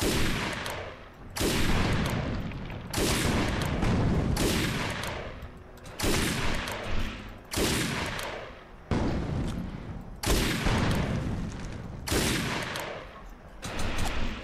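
Repeated bursts of gunfire in the shooter game Defiance, loud and close, coming in sharp waves roughly every one to two seconds with no voices over them.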